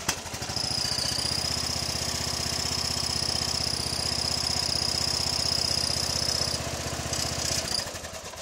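A Craftsman small gasoline engine runs at a steady, even idle after being restarted warm with no choke. The close, continuous putter holds a constant pitch with a thin high whine above it, then briefly wavers near the end. No one speaks.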